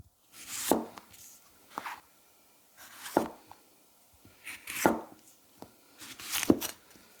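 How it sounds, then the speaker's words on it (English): Mazaki 210mm gyuto with a polished edge cutting garlic on a board: five crisp chopping strikes at uneven intervals, close and clear against a quiet background. "there is something so satisfying about cutting garlic with a well-polished edge"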